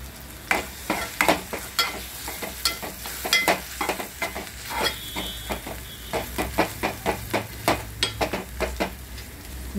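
Masala with mint chutney fries in a pan while being stirred, a steady sizzle broken by a fast, regular run of utensil scrapes and taps on the pan, close and fairly loud, with no talk.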